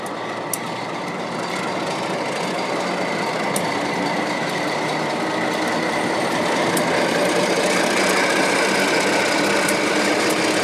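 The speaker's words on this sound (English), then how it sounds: "Our train will continue on to Skagway, but we'll leave it here to see some steam." A White Pass & Yukon Route train running near the station at Fraser, a loud continuous rumble of wheels and cars with faint metallic ticks, holding steady for about ten seconds.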